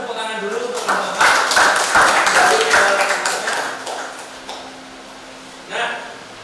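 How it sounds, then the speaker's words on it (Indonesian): Classroom applause for a student group after their presentation, a burst of hand claps filling the first few seconds, then fading under a quieter room with a stray knock near the end. "tepuk tangan dulu untuk kelompok 4"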